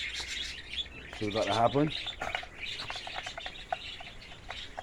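Wild birds chirp and tweet steadily through an overcast, rainy morning, with repeated short calls at moderate distance while someone talks briefly over them.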